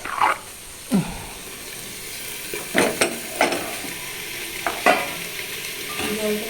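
Fish is stir-fried and worked around a pan, with scrapes and stirring strokes at irregular intervals over a steady, soft sizzle.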